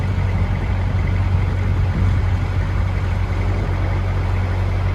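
Steady, continuous roar of traffic on the M3 motorway, heard from a distance near Runnymede, with a constant low rumble of engines and tyres and no break or lull.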